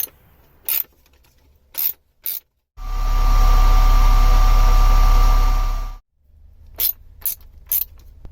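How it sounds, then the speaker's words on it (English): A ratchet with an 8mm socket tightens Jubilee hose clips on a narrowboat pump-out toilet system, giving a few short clicking strokes, then a long, loud continuous ratcheting run of about three seconds, then more quick clicks close by. "You can tighten these Jubilee clips with a screwdriver or an 8mm socket."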